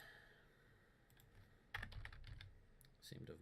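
Fast bursts of typing on a computer keyboard while writing Minecraft 1.8 mod code, quiet at first, then close, dense clicking clatter that continues to the end.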